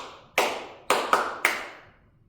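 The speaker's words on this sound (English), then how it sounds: "So you clap your hands." A teacher claps a classroom attention pattern: one sharp clap, a pause, then three more in quick succession, each crisp and ringing briefly in a quiet room.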